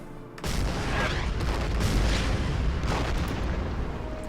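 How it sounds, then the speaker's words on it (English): Artillery fire on advancing infantry in the World War II strategy game Order of Battle: Panzerkrieg, a sudden loud onset followed by a sustained, dense rumble of booms and bursts. "My own artillery, start firing on the incoming infantry."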